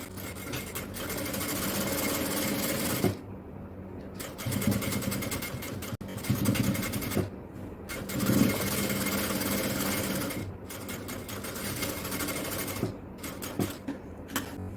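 Sewing machine stitching the shoulder seam of an XL jalabiya, running in steady continuous bursts with brief pauses between runs, close and fairly loud with no talking.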